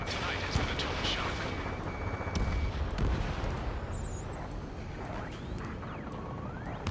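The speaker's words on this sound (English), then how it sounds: "Gunfire and the roar of jets echoing through the streets." Gunfire and roaring jets in the Ace Combat 7 video game during a city-under-martial-law mission: dense, continuous rumbling booms and bursts of fire fill the scene at a steady loud level, with a voice talking over them.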